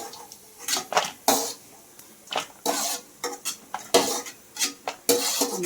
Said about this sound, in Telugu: జీడిపప్పు తొందరగా వేగిపోద్దండి జీడిపప్పు అయితే. జీడిపప్పు కూడా వేగిపోయింది.